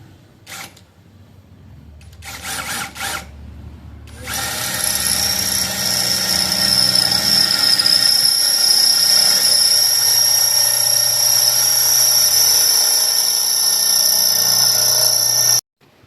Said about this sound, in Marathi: ड्रिल मारतो का